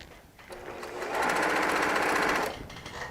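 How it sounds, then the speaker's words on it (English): A sewing machine used for quilt piecing makes a single stitching run of about a second and a half, rising from quiet handling sounds and stopping abruptly; no speech. "Yes, it is sewing stitches now."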